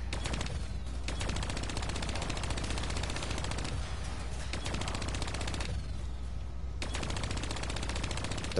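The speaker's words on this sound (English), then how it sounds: "You're shooting stuff." Rapid automatic gunfire in Call of Duty: Black Ops III zombies mode, sustained bursts with brief pauses, loud and close, with no talk.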